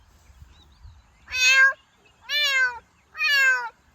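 Three drawn-out meows mimicked by a voice, evenly spaced and clear, with near silence in between.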